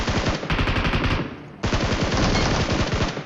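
Rapid bursts of automatic gunfire in PUBG Mobile, loud and continuous with dense repeated shots, briefly thinning near the middle before another sustained volley.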